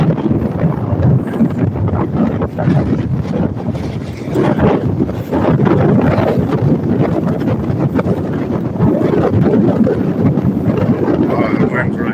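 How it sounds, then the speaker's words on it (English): Strong wind roars steadily across a beach microphone with choppy surf beneath it, a loud, constant buffeting rush that fills the whole stretch. "Oh, the wind's really picking up. The wind's kicking now."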